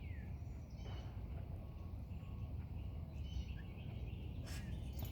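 Bluebirds give faint, scattered chirps from a tree where a cat is bothering them, set against a steady outdoor background hiss.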